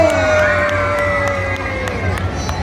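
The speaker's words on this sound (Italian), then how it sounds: "fatemi un grido pazzesco!" A crowd at a children's game event cheers and shouts loudly and continuously, with excited young voices mixed in over a steady roar of noise.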